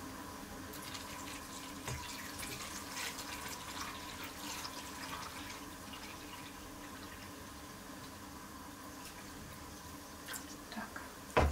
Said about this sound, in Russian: Добавляем воды. У меня здесь литр воды.